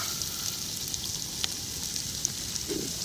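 Ginger garlic paste frying in oil in a pan, a steady close crackling sizzle with small pops and a light stir near the end, no voices.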